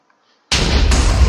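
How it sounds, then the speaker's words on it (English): A meteor shower TNT explosion in the video game Minecraft, a sudden loud blast after a brief silence, followed by a dense, sustained roar of debris and rumble that stays near and steady to the end. "Meteor shower TNT."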